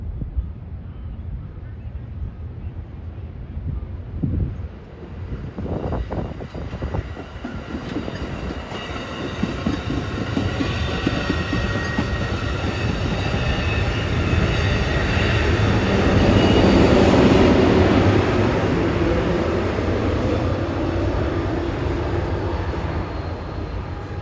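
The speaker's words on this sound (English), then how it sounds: "departing at 4:12 is Amtrak 542 en route from San Jose to Sacramento. He's holding up a couple of Union Pacific SD59MXs." Amtrak 542, hauled by two Union Pacific SD59MX locomotives, departs: a few clanks and a rising diesel drone build into a loud, sustained rumble of engines and rolling wagons that peaks near the end.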